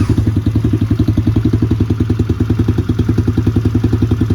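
A Mototec X1 dirt bike engine runs close and loud at a steady idle, with a rapid, even thumping pulse and clattery mechanical tone throughout, no voices over it.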